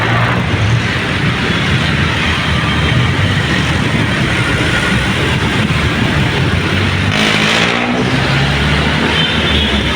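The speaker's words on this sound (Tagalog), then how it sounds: "Kapag gabi na, traffic talaga mga uncle." Evening road traffic with cars passing steadily, a continuous loud engine rumble and tire roar filling the whole stretch, nearby and without pause.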